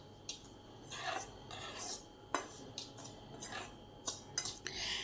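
Semolina, gram flour and plain flour being stirred together in a bowl, giving soft scraping and clinking strokes of a spoon against the bowl in short irregular bursts, close and fairly quiet, with no talking.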